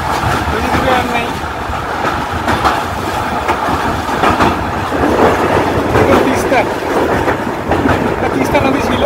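The Sikkim Mahananda Express runs near Sevok in the Dooars, a loud continuous rumble of wheels on rails with rhythmic clatter and rattling carriages, heard from aboard the moving train.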